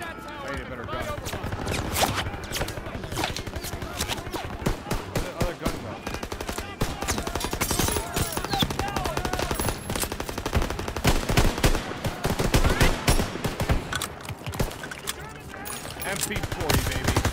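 MP40 submachine gun fire in Call of Duty WWII, heard as long rapid bursts of automatic shots that keep going through the whole stretch amid battle noise, with voices talking over it.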